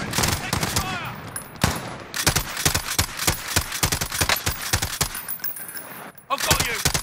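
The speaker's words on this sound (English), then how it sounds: "Taking fire." Rapid bursts of gunfire from a Call of Duty: Modern Warfare firefight, sharp loud cracks repeating in quick volleys across the whole stretch, with brief pauses and a closing burst after a short lull.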